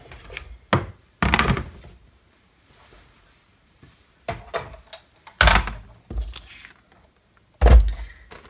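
Big Shot die-cutting machine being handled and positioned on a tabletop for papercraft, producing scattered thuds, knocks and plastic clunks at irregular intervals, close by with quiet gaps.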